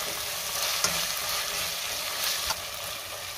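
Garam masala, red chili powder and cumin powder are stirred in a pan over heat, giving a steady soft sizzle with faint scraping and a couple of brief utensil knocks, close and without talk.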